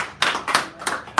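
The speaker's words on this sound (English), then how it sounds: "Did we give him a round of applause?" Applause at a poetry reading in a San Francisco café: a few separate hand claps at an irregular rhythm, close and fairly loud, from a small audience.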